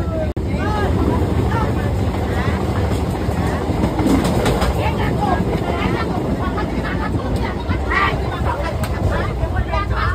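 Inside a moving commuter train arriving at Dum Dum, a steady loud rumble and rattle of carriages runs throughout, with a crowd of voices talking underneath.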